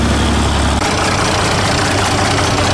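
An old six-cylinder diesel tractor engine idles steadily and loudly nearby, a constant low rumble with a dense mechanical roar and no break in its running.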